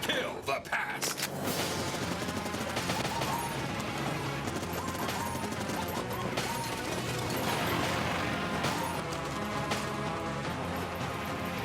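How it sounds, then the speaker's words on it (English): Rapid bursts of gunfire and mechanical clatter from the Enter the Gungeon video game trailer play loud and continuous over a thick musical score, with no clear talk. "A gun that can kill the past!"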